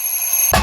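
A bright electronic kitchen timer alarm signals that pasta has finished cooking, sounding steadily, then a louder burst of ringing breaks in near the end.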